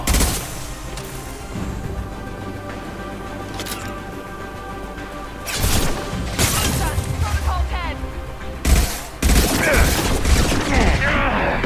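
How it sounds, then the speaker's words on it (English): A high-impact shot fired in the video game Mass Effect 2, heard among several loud, sharp blasts and crashes scattered over a busy background of game noise and a talking voice. "Firing a high-impact shot."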